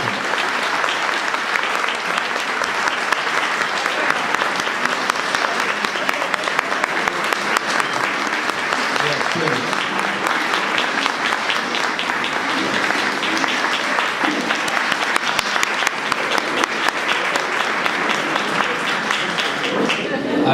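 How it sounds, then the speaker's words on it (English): Sustained applause from the crowd at a 20th anniversary reception for the Beaufort Fund, steady dense clapping that fills the room for about twenty seconds, with a little speech mixed in. "let us give you a warm welcome and a round of applause"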